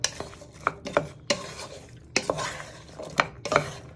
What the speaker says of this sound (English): Give them a little stir for a minute or two.